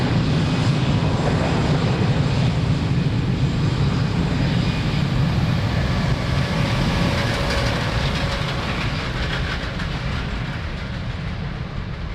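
An airliner roars down runway 02 at Lisbon Airport on its takeoff run, a loud, steady jet-engine rumble that holds for the whole stretch and eases slightly toward the end.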